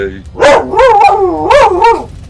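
A pet dog barks and yowls loudly and close, a few drawn-out vocal barks with rising and falling pitch, in a home streaming setting.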